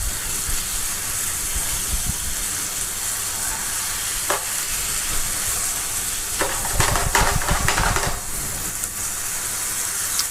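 Salmon and king prawns sizzle in a honey garlic butter sauce with wholegrain mustard, a steady close frying hiss broken by a few stirring scrapes near the end.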